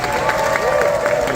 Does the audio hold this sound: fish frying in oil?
no